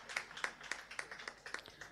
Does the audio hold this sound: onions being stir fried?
no